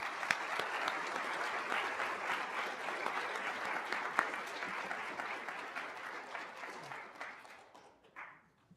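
A crowd at a National Technical Honor Society induction ceremony on a main campus gives sustained applause for the student ambassadors committee. The dense clapping stays fairly even, then tapers off near the end.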